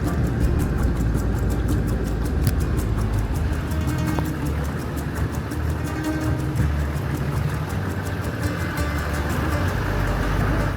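A four-wheel drive vehicle rolls through old rural village streets, its engine a steady, close drone with rumbling tyre and road noise that stays continuous throughout, with no talking.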